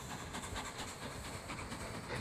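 A train rolls along rails in the railway-building video game Mashinky, a steady mechanical rumble with faint rhythmic clicking and a hissing wash, moderately quiet and continuous with no voices.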